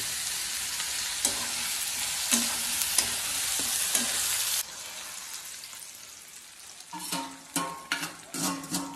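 Onion and tomato fry in hot oil, a loud steady sizzle broken by sharp stirring scrapes and clinks, then a quieter stretch before rhythmic stirring strokes return in quick bursts.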